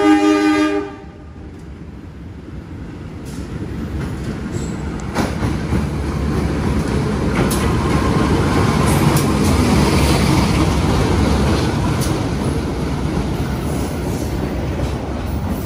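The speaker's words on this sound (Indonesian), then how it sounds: "Kereta api Sri Tanjung dari Ketapang tujuan Lempuyangan ditarik lokomotif CC 201-7803 ya." A Sri Tanjung passenger train hauled by a CC 201 diesel locomotive rolls past at close range, a loud sustained rumble of wagons and wheels with rail clatter and a brief horn-like tone at the start.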